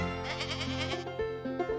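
Several farm goats bleat in quick succession over a steady musical backing, their wavering calls close and moderately loud through the first second before fading into the music.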